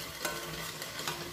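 Spices, Kashmiri red chili and coriander powder, frying gently in a pan over a low flame, giving a steady soft sizzle with light stirring scrapes and no voices.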